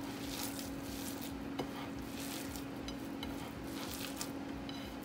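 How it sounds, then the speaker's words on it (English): Brinjal stuffing mixture of coriander, tamarind and jaggery being stirred in a bowl: soft, continuous scraping and mushy mixing, with a few faint clinks of a spoon against the rim, close and quiet. "Just give that a good mix."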